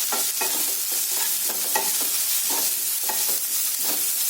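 Onions fry with salt in a pan, a steady bright sizzle broken by regular scraping stirs roughly every half second, close and continuous with no voices.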